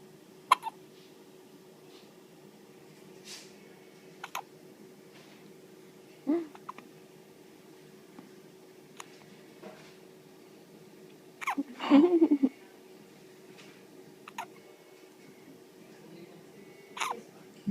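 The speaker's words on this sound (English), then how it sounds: "You get the hiccups, huh?" A small child's hiccups, short sharp catches spaced irregularly every few seconds against a quiet room, with one louder cluster near the middle.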